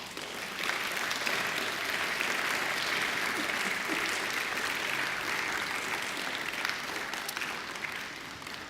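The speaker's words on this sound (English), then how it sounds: "give them a mighty round of applause in appreciation and thanks" A graduation ceremony audience claps in a dense, sustained wash of applause that stays steady and loud for several seconds before tapering slightly at the end.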